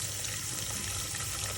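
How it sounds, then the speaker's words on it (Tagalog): Hot tap water pours steadily into a cooking pot on the stove for a Filipino sopas soup, a continuous hissing splash at low volume, heard alone without talking. "Lagyan lang natin ng tubig. Mainit yung tubig na yan. Galing sa gripo."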